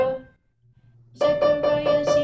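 A piano plays the Zechariah zebra repeated-note finger exercise: one single note, then after a short gap a quick run of four or five evenly spaced repeated notes on the same pitch, clear and close.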